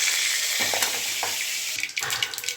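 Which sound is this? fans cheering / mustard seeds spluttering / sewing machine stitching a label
mustard seeds spluttering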